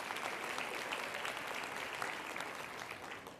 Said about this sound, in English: So if you think that's true, clap your hands.